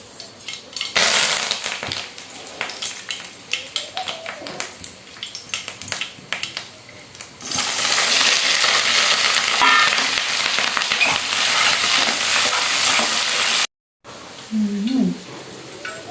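Mustard seeds and curry leaves crackle in hot oil, first with sparse pops under a person talking, then a loud, dense sizzle after the leaves go in, cutting off briefly near the end.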